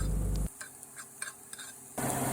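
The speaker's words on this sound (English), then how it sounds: "Next, we're gonna saute these onions." Onions sauté in a pan with a soft, close sizzle and a few light stirring scrapes between two louder bursts of background noise at the start and end, quiet overall.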